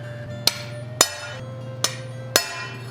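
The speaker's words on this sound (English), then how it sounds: "I can still do some chisel work even at this low heat" A hammer strikes a chisel on steel cooling to black heat during beginner blacksmithing, four sharp ringing metallic blows spaced unevenly over a steady low hum, close and loud with short decays.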